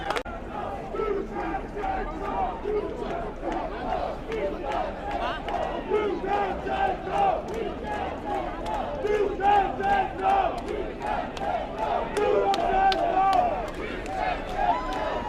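A large crowd at a protest in Ireland chants in rhythmic, repeated shouted phrases, steady and fairly loud throughout with slight swells in volume.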